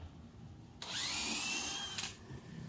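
A Dewalt DCD999 cordless drill running at speed 3 spins up abruptly with a bright, high whine, holds for just over a second, then stops, heard close and alone.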